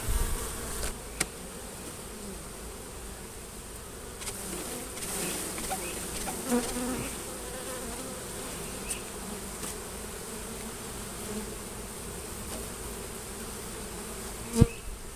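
Honey bees buzzing around a rescued hive during a hurricane hive removal, a continuous dense drone of many insects nearby with occasional clicks and knocks over it.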